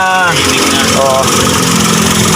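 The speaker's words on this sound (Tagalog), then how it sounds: "So titingnan natin yung sa makina niya kung hindi na siya talagang palyado" Engine of a Toyota Wigo running, heard from underneath the car, a steady mid-pitched idle drone with someone talking over it.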